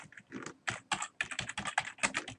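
Rapid typing on a computer keyboard while writing code, a dense run of close, crisp key clicks with short pauses between bursts.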